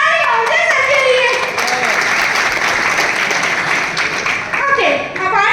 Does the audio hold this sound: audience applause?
yes